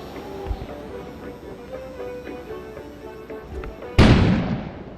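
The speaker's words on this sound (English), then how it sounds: "An explosion suddenly occurred outside." Explosion outside in the video game Kona, a single loud sudden blast that rings out and fades after a quiet stretch of low ambient noise.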